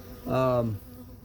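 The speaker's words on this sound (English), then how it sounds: "there's plenty of bees in this in this colony." A single honeybee from a hive colony buzzes close by for a brief moment, a short humming drone rising and fading against quiet background.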